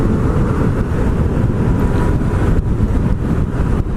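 Yamaha MT-07 (FZ-07) two-cylinder motorcycle under way, a steady loud low engine drone mixed with heavy wind rush across the microphone, continuous with no talk.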